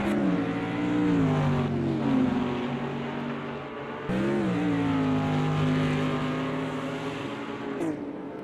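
GT3 and GT4 race cars in a sim racing endurance game at Lodrina roar continuously, engines rising and falling in pitch through gear shifts and passes. Several cars overlap, loud and near, with a sharp shift around midway and a brief burst near the end.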